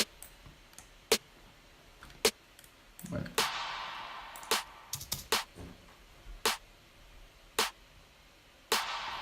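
Drum hits squashed by heavy compression, sharp isolated transients with pumping tails, moderately loud, spaced irregularly across the passage; a voice may briefly talk between hits.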